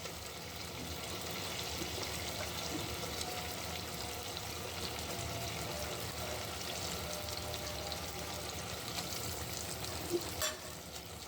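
Fish frying in a mustard-paste spice masala in a pan, a steady close sizzle running the whole time with faint stirring and a couple of small clinks near the end.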